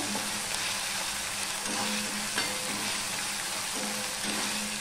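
Ginger fries in hot oil with a steady, close sizzle, while a spoon occasionally clinks and stirs the pan.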